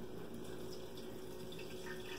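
Boiled water poured over leftover rice to reheat it: a steady, continuous splashing pour, close by and uninterrupted, with no voices.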